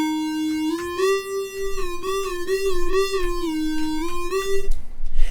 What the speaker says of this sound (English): we're going to make this super cool 80s vibe monosynth that sounds like this